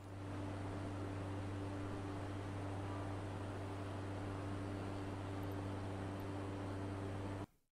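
A light aircraft engine in a flight simulator game drones steadily and loudly, a buzzing lawnmower-like hum with a constant pitch that holds without a break, then cuts off abruptly at the end.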